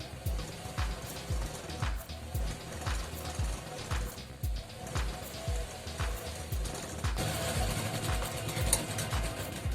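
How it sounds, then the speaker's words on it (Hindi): A sewing machine stitches salwar fabric at the hem, running in a fast, regular mechanical rhythm of needle thumps and whirring, close and steady, growing slightly busier near the end; no talking. "अब आपके इसके पास में एक और बूट की सिलाई चला दी।"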